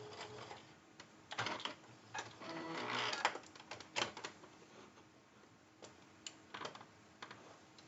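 A sewing machine stitches the side seam of a zipper pouch in short bursts of rapid rattling, pausing between runs and closing with a backstitch, heard close and fairly quiet.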